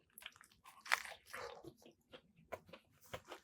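Crisp bites and chewing on a crunchy fried chicken sandwich with fried jalapeno, close and quiet: a sharp crunch followed by repeated crackly munching bursts.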